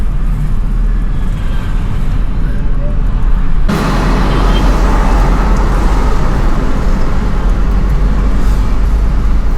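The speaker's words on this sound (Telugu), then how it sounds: "ఇది ముంబై హైవేకు చాలా హెవీ ట్రాఫిక్ ఉంటుంది." Heavy traffic on the Mumbai highway makes a loud, steady roadway rumble of cars and buses, growing denser partway through, with a person talking over it.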